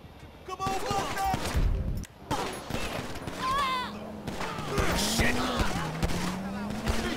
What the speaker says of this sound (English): Oh man, now we got a shootout down here in Grove Street.